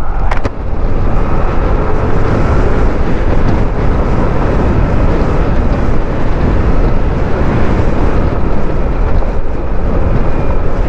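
Strong wind rushes over the microphone on a moving boat, a loud, constant roar with no break, drowning out any other sound.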